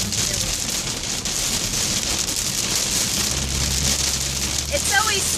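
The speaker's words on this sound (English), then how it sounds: "It's always scary driving with the rain." Heavy rain drums steadily on a car passing under a bridge during a tornado watch in Fort Lauderdale, Florida, a continuous hiss with a low engine rumble joining near the end.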